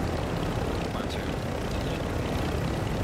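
A helicopter in the Warzone 2 video game gives a steady, dense rotor and engine roar close by, with people talking over it throughout.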